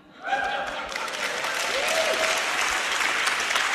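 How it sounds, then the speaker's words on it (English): Audience applause at a Q&A session at a Christian apologetics conference, breaking out sharply and holding steady as a dense, continuous crowd clapping for several seconds, with a faint voice briefly underneath. "It did not deserve applause"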